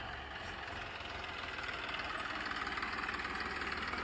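A tractor idles in a farm field in Gujarat, waiting to run a cultivator before wheat sowing. The engine gives a low, rhythmic diesel throb that grows slightly louder and steadier, close by, with no speech.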